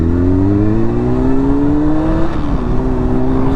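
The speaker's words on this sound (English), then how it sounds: "Oh, I hear the 250 getting on it." A 250 motorcycle accelerates hard nearby, its engine note climbing steadily in pitch, dropping briefly and rising again over steady wind rumble on a windy ride.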